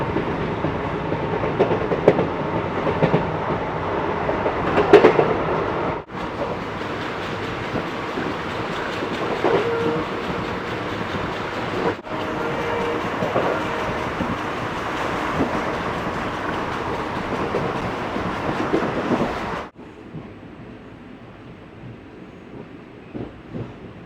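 Palakkad Town–Trichy express train running along the rails near Kulithalai, a steady loud rumble and rattle of the carriages with brief dips, and a quieter stretch at the end.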